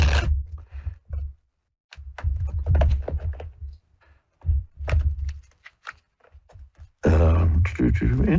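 Tarot cards shuffled by hand during a live psychic reading on air, a run of brisk papery riffles and slaps in close, uneven bursts separated by short pauses, ending in a louder final flurry.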